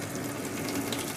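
Drinking water runs steadily from a tap at a city water pumping station, a continuous close hiss and splash of flowing water with a faint mechanical hum beneath, no voices.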